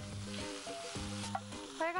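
Prawns tossed with turmeric in a hot frying pan, a short burst of close sizzling and stirring under sustained tonal background sounds.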